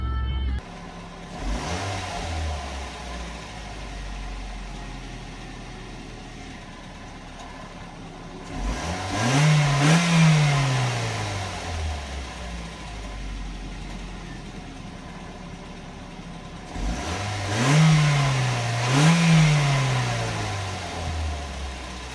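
Ford Focus exhaust, starting from a steady idle, then two separate pairs of quick revs several seconds apart, each climbing and dropping back, recorded fairly close with no talking.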